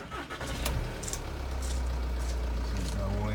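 A Volkswagen Transporter T30 Kombi van engine cranks briefly and catches, settling into a steady low idle rumble close by, with a few clicks at the start.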